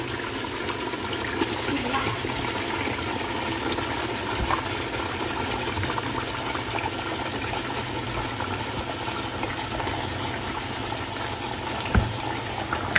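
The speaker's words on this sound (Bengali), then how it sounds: "এখানে আমি হচ্ছে মাংসের মশলা কষায় ফেলছি" Meat spice masala frying in a pan while chicken is roasted for Eid cooking, a steady even sizzle that runs without a break for about thirteen seconds, with no talk.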